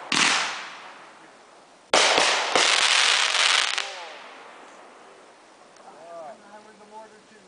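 Loud bursts and crackling from a home fireworks show finale in 2011, with a strong blast at the start and a dense cluster of bangs in the middle, fading into scattered pops while voices chatter.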